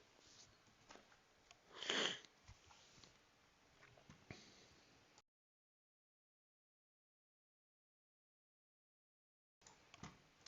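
A person sniffles with the sniffles, giving a sharp, close nasal sniff followed by a few softer breaths, then silence and another faint sniff near the end.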